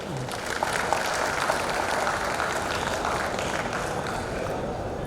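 Sustained applause from an audience at the opening of a ten-storey building, steady clapping that fills the room evenly throughout with no pauses.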